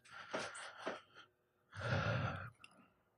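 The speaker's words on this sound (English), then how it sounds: "take a nice big deep breath" A person takes slow, deep breaths during a calming hand-tapping exercise, a soft inhale and exhale followed by a longer, fuller breathy sigh, close and quiet with no speech.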